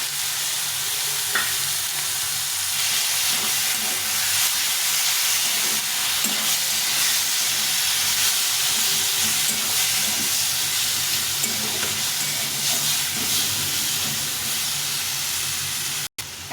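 Ginger, garlic and green chili paste fries in a pan with a steady, bright sizzle and hiss, broken now and then by soft stirring scrapes, loud and close throughout with no one talking.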